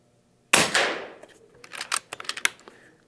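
A single sharp report from a .25 calibre Umarex Avenge-X PCP air rifle, the first shot after a refill, followed by a decaying ring and a string of small clicks and knocks, no voices.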